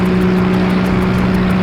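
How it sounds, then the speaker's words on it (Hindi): A motorboat engine running steadily, a loud continuous drone with an even hum throughout and no talk over it. "ये कोई मोटर बोट की आवाज है।"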